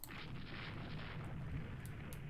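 Naval gunfire from battleship turrets in the game Rule the Waves II: a steady, dense rumble of booming artillery with scattered sharper cracks, continuous and fairly loud throughout, no talk.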